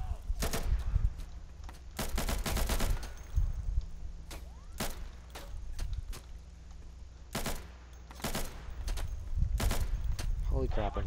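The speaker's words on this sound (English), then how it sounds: "The recoil on the guns is crazy." Gunfire from the video game Insurgency rings out in bursts of sharp automatic shots and single cracks, loud and close, separated by quieter gaps with a faint background hum, while a player talks at times.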